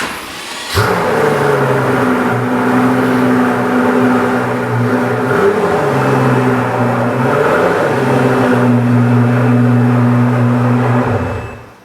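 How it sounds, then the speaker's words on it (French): A Pagani Huayra Roadster's engine starts with a sudden bark and settles into a loud, deep, steady idle indoors, with slight rev fluctuations midway before cutting off near the end. "on va juste écouter le bruit de la voiture"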